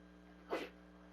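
A single short sneeze, faint and slightly distant, over a quiet steady background hum.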